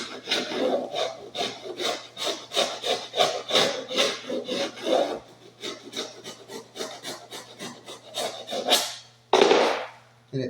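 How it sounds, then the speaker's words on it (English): Sharp chisel scraping and cutting through dense 7 mm laminate flooring near a door jamb, a rapid series of close rasping strokes, ending in a longer heavier scrape. "Another technique you can use also is a chisel, a nice sharp chisel."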